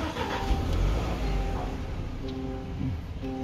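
A 2021 Land Rover Defender 90 engine starts and settles into a steady, close idle with a smooth mechanical hum, heard alone without voices.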